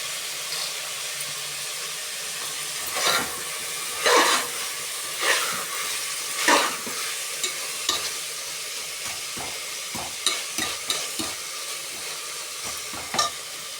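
Mint and curry leaves fry in hot oil for vegetable biryani, giving a continuous close sizzle and hiss punctuated by repeated scraping stirs of a spoon against the pan, at first spaced out and then coming in quicker bursts.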